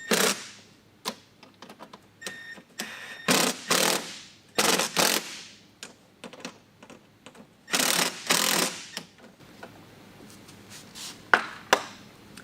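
Bolts being tightened during a mud flap install on a BMW 328i convertible (E93): repeated short bursts of rapid mechanical clicking and rattling, close up, separated by quiet gaps.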